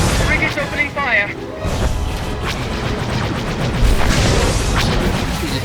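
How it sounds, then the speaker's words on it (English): A frigate opens fire in a Star Wars: The Old Republic space battle, heavy booming blasts and rumbling explosions rolling continuously, loud and dense over a steady engine-like background. "Frigate's opening fire."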